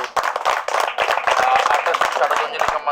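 Crowd clapping at a Durga Puja club award presentation, steady dense applause of many hands, close and loud, with voices talking over it.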